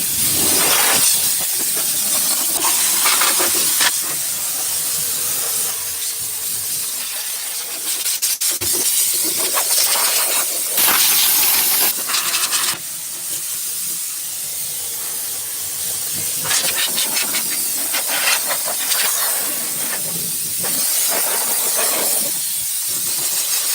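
Strong rushing air blowing from a new Vintage Air defroster duct in a 1963 Impala, a loud steady hiss that shifts in level a few times, with no talk.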